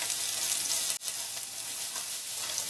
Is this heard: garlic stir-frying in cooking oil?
yes